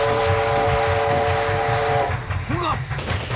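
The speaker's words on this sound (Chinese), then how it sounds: "红哥，火车来了" A train pulls in with a steady rumbling rhythm and a sustained whistle or horn tone during the first two seconds, moderately loud, followed by brief squealing under background noise.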